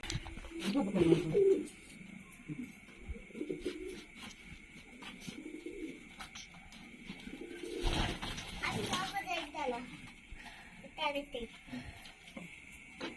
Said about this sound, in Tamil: இந்த கிஜல் புறா விட போறோம்.